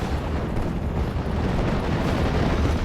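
Heavy 14-inch naval guns firing in the World War II strategy game Steel Division: Normandy 44, heard as a continuous deep rumbling barrage of booms and explosions, loud and dense.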